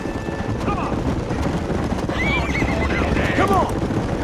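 A horse neighs in the video game Red Dead Redemption, with whinnies rising over hoof clip-clops and busy outdoor ambience while someone talks.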